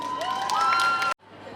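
Audience at a cosplay contest stage show at a manga convention applauds and cheers loudly for about a second, with a bright whistle or voices above the crowd, then cuts off abruptly to a quieter room.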